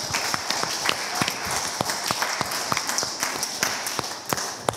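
A church congregation praising the Lord claps in a loose, steady rhythm, with sharp individual claps standing out over a bed of crowd noise and a faint voice underneath.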